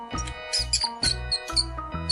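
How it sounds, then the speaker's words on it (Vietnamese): A mouse squeaks in a series of short, shrill chirps, about four quick bursts evenly spaced, bright and close over light background music. "Con chuột."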